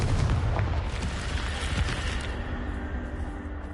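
Confringo fire spell exploding in the wizard game Hogwarts Legacy, a loud, deep boom with a roaring blast that slowly fades over several seconds.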